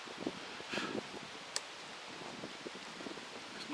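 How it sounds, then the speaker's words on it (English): Wind blowing outdoors, a faint steady rush with light rustling and a few soft gusts, close to the microphone, under quiet talk. "There's a bit of wind blowing here, like that."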